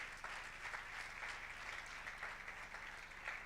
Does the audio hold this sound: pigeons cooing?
no